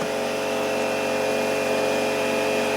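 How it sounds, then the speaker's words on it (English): A hammer drill runs continuously at high speed, a loud, steady whine with a buzzing hammering texture underneath and no pauses. "A friend of mine loaned me his hammer drill"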